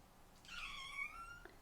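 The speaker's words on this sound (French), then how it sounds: "J'ai le petit bibi-chat qui participe." A single drawn-out cat meow, moderately close and clear over a quiet indoor background, with no talk.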